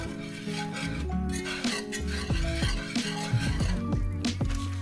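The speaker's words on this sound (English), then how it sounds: "So I'm just going to keep stirring this until it kind of liquefies." A spoon stirs a caramel mixture for banana French toast in a pan, scraping and clinking against the metal in an uneven rhythm with some tonal background, close by and without speech.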